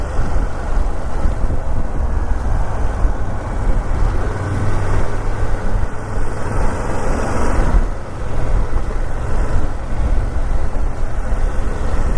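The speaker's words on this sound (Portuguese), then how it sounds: "Tem aqui um som engraçado esta moto" A BMW F900GS Adventure motorcycle engine runs continuously while riding, a loud, steady low rumble mixed with wind roar throughout.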